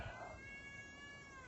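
A female cat meows and wails outdoors, faint and distant under steady background hiss, a drawn-out plaintive cry that wavers in pitch before fading.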